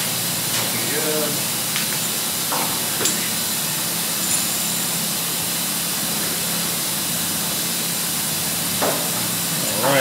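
A spray gun lays Tropical Turquoise base coat on the dash of a Bel Air with a continuous hissing spray. Faint knocks and clicks occur now and then in the background.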